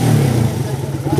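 A motorcycle engine runs loud and close at a repair workshop, holding a steady, slightly uneven idle with a low throbbing tone throughout, while someone talks over it.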